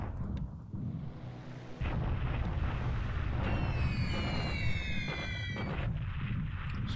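Bombing explosions over Singapore in the War in the Pacific strategy game, a deep rumbling low roar that jumps louder and keeps going steadily, with thin whistling tones sweeping downward over the top midway through.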